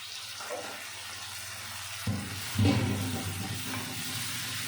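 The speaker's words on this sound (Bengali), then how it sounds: "আমি এবার দিয়ে দেবো অল্প পরিমাণে জল" A little water goes into a cooking pan of shapla (water lily stems) with hilsa fish head. A faint, soft sizzle gives way to a quiet pour and splash about halfway through, followed by a gentle simmering hiss.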